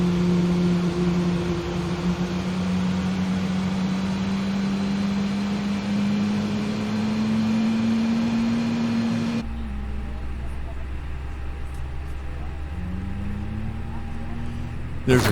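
An airliner engine spools up in Microsoft Flight Simulator, a steady loud hum and whine with a tone that slowly rises, drops to a lower rumble partway through, then starts climbing again, with no talk.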